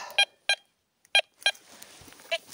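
Metal detector sweeping over ground among castle ruins gives short, sharp electronic beeps, three close together, then a fainter fourth after a pause, with quiet background rustle between them.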